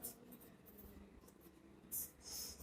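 A formula being written by hand in a probability lesson, soft scratchy strokes close by and faint under a quiet room, with a couple of brighter, louder scrapes toward the end.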